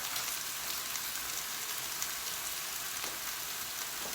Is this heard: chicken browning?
yes